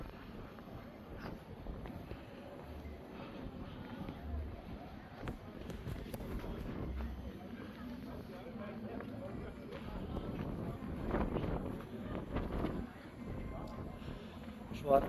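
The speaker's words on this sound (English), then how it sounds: "Wind is really kicking up." Strong gusty wind at the Kyffhäuser buffets the microphone as a rough, uneven rumble that swells and eases throughout, with people talking under it.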